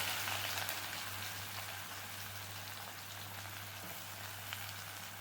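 Onion sizzles and crackles in hot oil in a pan for a raw tomato bhaji. The frying hiss is soft and steady throughout, with a faint low hum beneath and no talk.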